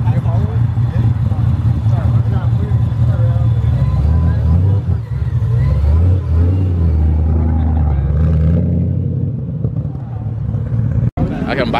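A car engine rumbles and revs loudly and steadily at a nighttime car meet, close by and continuous, with people talking over it and a sharp knock near the end.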